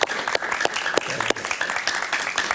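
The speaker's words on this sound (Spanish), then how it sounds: "Un aplauso para Luis, por favor." A studio audience gives a burst of applause, a dense run of many hands clapping at a steady level throughout.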